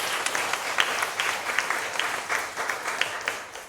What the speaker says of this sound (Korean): 잠시 일어서 주시면 또 환영하는 박수로 맞이하겠습니다.